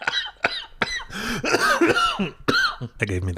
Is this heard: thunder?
no